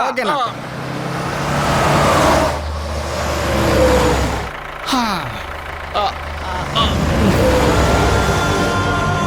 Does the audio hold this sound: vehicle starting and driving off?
yes